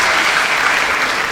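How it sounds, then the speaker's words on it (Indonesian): A seated audience at a talk applauds a guest speaker from Indonesian television, a dense, loud, steady wash of clapping filling the whole moment. "Tepuk tangan buat Pak Wisnutama"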